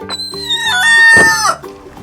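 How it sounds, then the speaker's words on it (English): A rooster on a farm lets out a single loud, close crow that rises into a long, strained high note and then drops away, with no talk. "Mr. Rooster."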